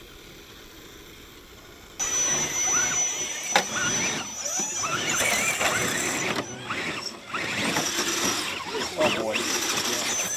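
An RC Gladiator crawler, an SCX10-III with a Holmes Hobbies 550 15-turn Crawlmaster Sport motor at half throttle under light load, whirs and grinds continuously outdoors with fluctuating loudness, while a person speaks briefly.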